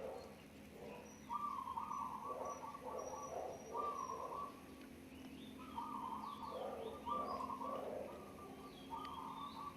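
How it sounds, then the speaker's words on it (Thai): Pigeons nesting in front of a house garden coo in repeated low, rolling phrases, steady and close, over a faint background of other birds chirping. "บ้านเรามีทั้งนกพิราบนกกระจอกนะลูก"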